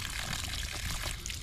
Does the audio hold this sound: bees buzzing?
no